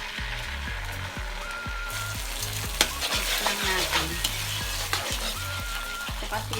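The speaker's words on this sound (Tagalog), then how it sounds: "Ayan, mix na natin siyang mabuti." Sauce with ketchup sizzles in a frying pan while a utensil stirs it, producing a steady crackling fry broken by regular scraping strokes and a few sharper clinks.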